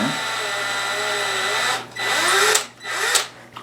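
A power drill bores a 1/8 inch hole into a wooden gnome ornament near a knot, whining loudly and steadily before slowing and stopping in short bursts.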